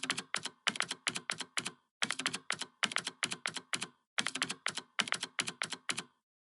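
Someone types an Aadhaar number on a computer keyboard, and the close, crisp key clicks come in quick grouped runs with brief gaps between them. No voices are heard.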